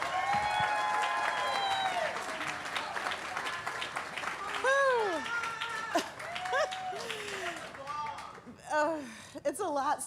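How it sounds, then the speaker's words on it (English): Warm applause rises from an audience at a benefit gala, clapping throughout while an amplified voice speaks over it and a few cheers break through near the end. "Would you please give Melinda Hurst Fry a big round of applause?"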